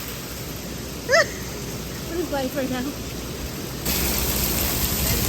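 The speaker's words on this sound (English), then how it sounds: "It is legit hailing on our car." Hail pelts a car in a storm as a dense, continuous hiss of impacts that grows louder partway through, while people speak briefly.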